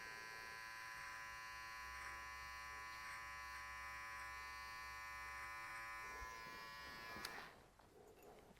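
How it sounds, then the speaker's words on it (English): Electric hair trimmer buzzing close up during a men's haircut, its corner shaping a curved line around the ear; a continuous bright hum that holds steady, then cuts off abruptly near the end. "Use the corner of the trimmer."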